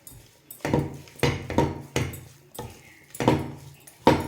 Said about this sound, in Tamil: அந்த தேங்காய் துருவலையும் நாம் இதோடு சேர்த்துட்டு நல்லா கலந்துடலாம்.